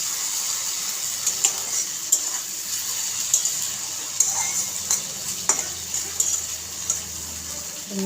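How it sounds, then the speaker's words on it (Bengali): Potatoes being stirred with turmeric powder and salt in a pan, a steady run of light scraping and stirring clicks over a continuous sizzling hiss, with no talking. "দিয়ে আলুটাকে হলুদ গুঁড়ো আর লবণের সাথে মিশিয়ে নেব"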